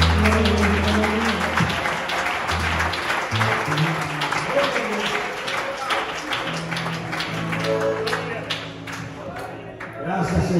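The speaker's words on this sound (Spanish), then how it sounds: "Déselo fuerte, señor, ese aplauso." Applause from a church congregation rings out continuously, crisp individual claps forming a steady wash, with a voice and faint tonal sounds underneath.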